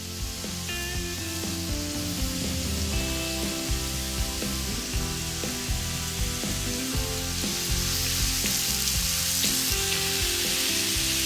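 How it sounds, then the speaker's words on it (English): Marinated chicken skewers sizzle loudly and steadily on a hot grill, a dense continuous hiss with faint clinks and background music, no talking. "You can hear that sizzle."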